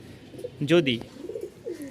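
A pigeon coos close by in a soft, throaty burst, followed by quieter low murmuring coos in a calm setting.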